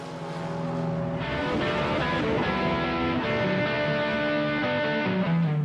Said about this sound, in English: This shift in pitch, known as the Doppler effect, is due to the fact that at the front of a moving car, sound waves are compressed